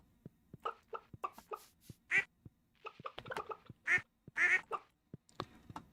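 Ducks in the Stardew Valley farming game quacking repeatedly, a string of short, clear calls at an irregular rhythm with a few louder quacks, alone and close.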